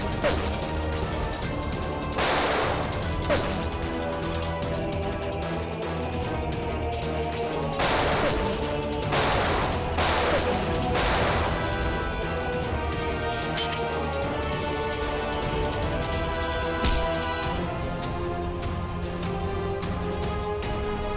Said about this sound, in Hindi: बहुत जल्द गोलियां खत्म हो जाएंगी।